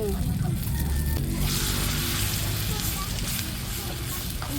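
Vegetable balls frying in hot oil over a strong flame: a loud, steady sizzle and crackle that continues throughout, close up, with a voice talking quietly over it.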